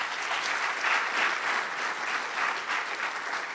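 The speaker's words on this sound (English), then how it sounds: "we must give him a round of applause" An audience at a public lecture gives a round of applause for a chartered accountant, a broad, even wash of many hands clapping that swells slightly in waves and carries on throughout with no talking.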